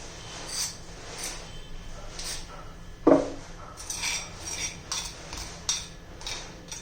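Green chilies are crushed for curd chutney with a series of dull pounding and scraping knocks on a hard surface, one sharper louder strike standing out among lighter repeated taps.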